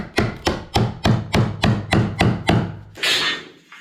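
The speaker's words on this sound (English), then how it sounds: "Plumber's chisel." A plumber's chisel is struck against a wooden floor joist during shower room first-fix pipework: nine evenly spaced, loud hammer blows in a steady rhythm, close by, then a brief rough scraping rustle.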